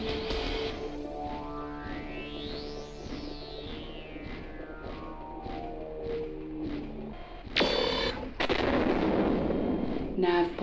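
Liquid fuel tanks exploding in the Mechwarrior video game, heavy booming blasts and rumbling detonations layered over game sounds and a sweeping tone, with a louder burst of explosions near the end.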